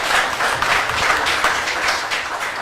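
An audience at a media event applauds a young singer, with steady, dense clapping that carries evenly through the whole stretch and no voices over it.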